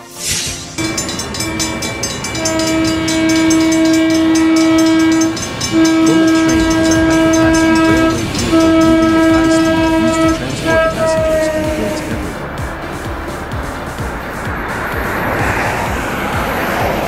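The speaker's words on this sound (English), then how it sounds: "Bullet train." A bullet train passes loudly, sounding long steady horn blasts in several bursts over its rising rush and rumble, then fading into a hissing roar as it moves away.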